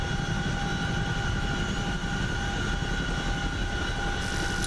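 A helicopter in the DCS flight simulator game drones steadily with a dense engine and rotor roar and faint tonal whines, continuous and unchanging, with no talk.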